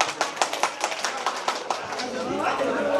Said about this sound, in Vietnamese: đề nghị cho tràng pháo tay để chúc mừng cho xui gia cũng như các cháu nó được trăm năm hạnh phúc